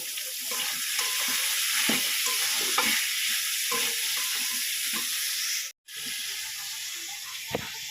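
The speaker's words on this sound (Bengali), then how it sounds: "এবারে এইগুলোকে ভালো করে নাড়িয়ে চাড়িয়ে নেব।" Chicken seasoned with salt and turmeric is stirred in a frying pan, giving steady close sizzling with repeated scraping strokes of the spoon; the sound cuts out briefly near the end, then resumes.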